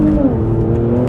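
A Kia Stinger GT with a loud modified exhaust accelerates, giving a steady, close engine drone that rises slightly in pitch.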